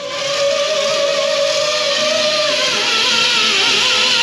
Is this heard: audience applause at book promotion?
no